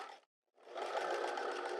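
A sewing machine stitches along a garment seam on a square neck top, running in a steady close-up whir with a brief pause before it restarts and keeps going.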